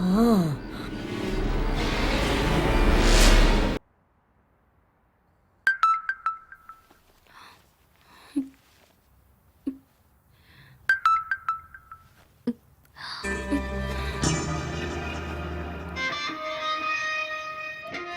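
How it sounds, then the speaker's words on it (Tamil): A phone chimes with a short bright notification tone twice in a Tamil horror film, each ping clear against near silence, between stretches of louder background score. "வாட்ஸ்அப்ல மெசேஜ் வந்திருக்கு பாரு"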